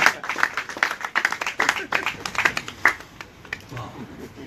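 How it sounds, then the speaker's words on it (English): An audience claps after a speech, a burst of individual hand claps at first that thins and fades toward the end, with a voice talking over part of it. "Another big round of applause."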